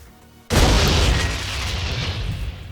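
A HESH grenade detonates on a reinforced platform in the video game Memories of Mars: one sudden, loud, close boom that breaks a quiet moment, then a long rumbling decay.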